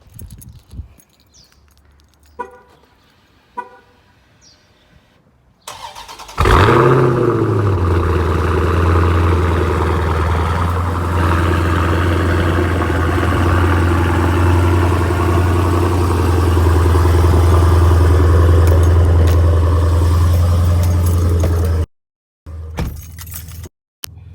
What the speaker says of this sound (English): go ahead and start this car up real quick